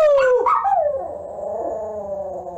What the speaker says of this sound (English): Luna, you want to say hi to everybody? Give me a howl.